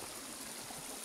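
River water flows steadily near a forest trail in Antipolo, a broad, constant rushing wash with no distinct splashes, heard alone.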